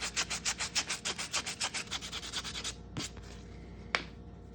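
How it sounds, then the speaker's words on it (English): Sandpaper of 320 grit rubs quickly back and forth over the edges of a copper-nickel quarter coin ring, making a rhythmic close-up scratching that stops partway, then a couple of small knocks. "take some 320 sandpaper, hit all the edges"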